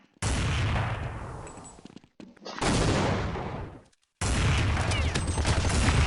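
Counter-Strike 1.6 gunfire in a jailbreak server, loud sustained bursts of rapid automatic shots in three long stretches separated by brief silences.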